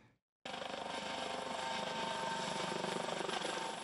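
Helicopter flying during a cyclone-season rescue exercise at Rangiroa, its rotor thudding and engine whine steady and fairly close after a sudden start, with no voices.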